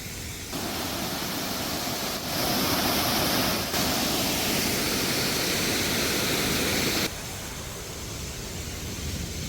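A waterfall pours into a cave in Vermont, a loud, steady broadband rush that swells for several seconds and then settles back to a lower roar.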